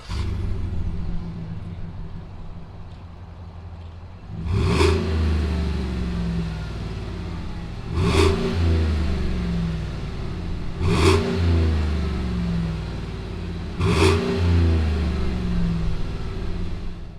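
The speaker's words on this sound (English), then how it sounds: "let's fire up this ALC Tahoe and see what it sounds like" A customized 2020 Chevy Tahoe by ALC starts and idles loudly, then is revved hard four times in succession, each surge roaring up and settling back to a deep rumble.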